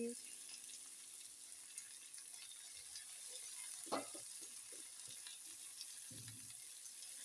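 Chana dal and onion frying in hot oil in a home kitchen for a fresh chickpea-greens dish, a faint steady sizzle with soft scattered knocks and stirring sounds throughout.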